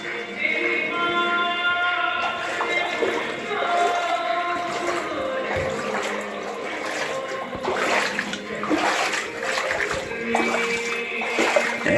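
Water splashes and flows underfoot inside a sacred cave at an ancient Shiva temple in Bareilly, a close, uneven sloshing and trickling with echoing chimes and voices murmuring in the background.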